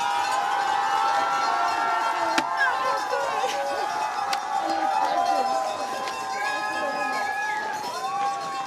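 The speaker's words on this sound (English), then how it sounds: "The crowd going wild." Spectators at a freeride ski competition in Val Thorens cheer and shout in a steady, loud crowd roar, with whistles and horns cutting through. The noise carries on throughout with no clear voices on top.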